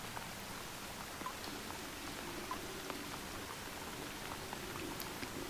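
Raindrops fall in a steady, faint patter on the ground outdoors, a soft continuous hiss with scattered small taps and no voices.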